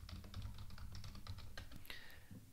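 Login credentials typed on a computer keyboard during a WordPress admin setup, a steady run of close, crisp key clicks at a quick, slightly uneven pace with no talking.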